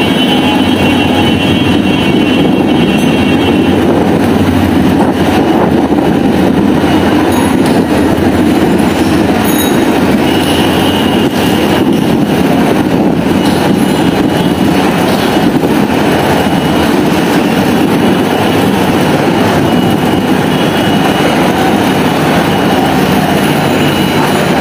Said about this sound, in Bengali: কমলাপুর থেকে ট্রেন ছাড়ছে